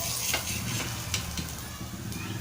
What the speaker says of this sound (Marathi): दुसरी साईडही आपली छान फ्राय झालेली आहे।